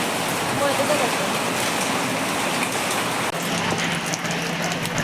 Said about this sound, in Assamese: বৰষুণ দিছে অলপ অলপ, আৰু বতাহো দি আছে।